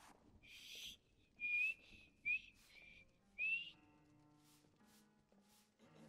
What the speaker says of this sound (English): I can whistle at you.